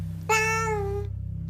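A house cat lets out a single clear, drawn-out meow, close and moderately loud, over a low steady indoor hum.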